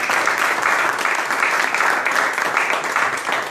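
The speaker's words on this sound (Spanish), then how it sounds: "¿Cuántos dan un aplauso al Señor?" Steady, loud applause from a congregation at a Spanish-language church worship meeting, continuous dense clapping filling the space without pause for several seconds, no speech.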